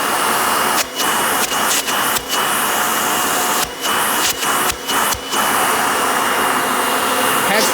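A direct-air vacuum cleaner motor runs at full speed in hose mode, a loud steady whining roar broken by several brief dips where the airflow is blocked and released.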